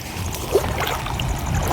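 Floodwater from heavy rain rushes near a river, a steady close churning wash with a brief splash, no voices.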